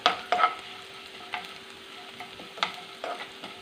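Urad dal frying in hot oil until it turns brown, with a steady close sizzle and a few brief sharp crackles and stirring clinks scattered through; no talking.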